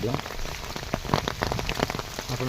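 Heavy monsoon rain pours steadily onto surfaces nearby, a dense patter of drops with sharper individual hits, continuous and fairly close throughout, with no voices over it.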